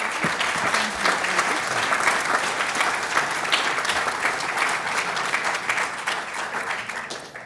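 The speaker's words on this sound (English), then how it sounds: "Give a round of applause for Chad." Audience at a sea level rise symposium evening breaks into sustained, loud applause after a presentation, a dense wash of clapping that holds steady before tapering slightly at the end.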